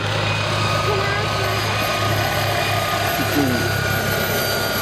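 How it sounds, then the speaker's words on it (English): A police helicopter drones steadily overhead at an airshow with a low, constant engine rumble and rotor hum that holds evenly throughout. "I see the police helicopter joining us."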